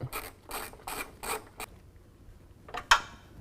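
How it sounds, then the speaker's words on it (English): A ratchet wrench clicks in several quick bursts, tightening the rear upper body mount bolt on a 2018 Jeep Wrangler, then pauses before a final short, sharp clack; close and fairly quiet. "Now we can tighten down our rear upper body mount bolt"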